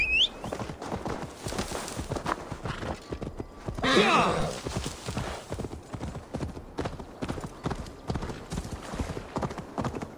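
Steady, rapid hoofbeats clip-clop throughout in Assassin's Creed Valhalla, with a brief horse whinny rising in the middle; the rhythm stays close and even.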